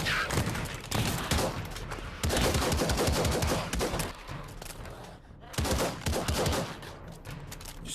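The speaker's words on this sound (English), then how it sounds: "It's okay, it's a shotgun." Shotgun blasts ring out in the VR zombie shooter Pavlov, a few loud booming shots separated by short gaps, with dense clattering gunfire layered between them.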